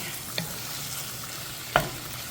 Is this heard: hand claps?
no